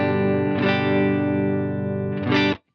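Electric guitar with a clean signal through a pedal mixer, overdrive pedal switched off: sustained strummed chords ring steadily and loud, restruck near the end before cutting off abruptly.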